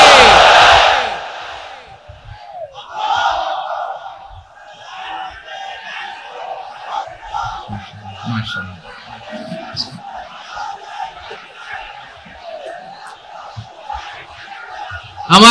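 A crowd at an Islamic sermon gathering answers with the takbir chant, a loud burst of massed voices at the start, followed by a long stretch of overlapping shouted replies and murmurs at moderate distance.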